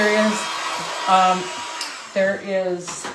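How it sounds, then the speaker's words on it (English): A hair dryer blows in short bursts over a fabric stencil for a pumpkin pillow, its whining motor rising and falling close by, with no talking. "I'm going to dry my stencil."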